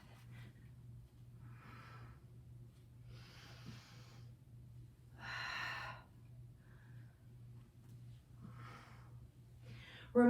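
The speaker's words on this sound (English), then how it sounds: "Big deep breath." Deep breaths during an arm workout, several slow airy inhales and exhales spaced a second or two apart over a steady low hum, one fuller breath in the middle.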